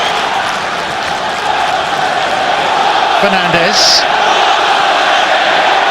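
Football crowd at a Manchester City versus Everton match in 2007/08, a steady broad roar filling the stadium with a brief whistle rising above it, while a commentator talks over the noise.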